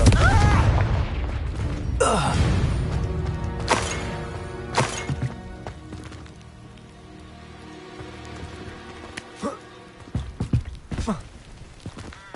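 Confringo spell explosions in the video game Hogwarts Legacy, several sharp booming bursts spaced over the stretch with rumbling tails, amid a busy game-combat background.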